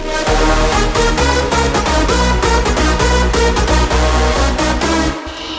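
Loud, dense big room techno with a pounding four-on-the-floor kick, thick bass and bright layered synths, driving steadily before cutting off near the end.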